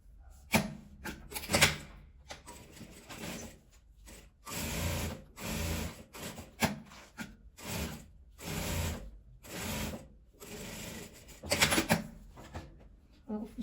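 Sewing machine stitching a seam on a patchwork bag lining and zipper, a series of short motor runs separated by pauses, close and fairly quiet.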